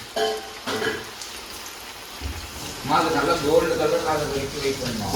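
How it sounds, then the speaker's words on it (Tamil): Chicken pieces for KFC-style pepper chicken sizzle as they go into hot oil, a steady close crackle and hiss that swells after a brief lull, with someone talking over it at the start. "நம்ம எண்ணெயில் போட்டு பொரிச்சிடலாம்"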